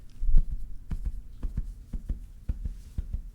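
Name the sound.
heartbeat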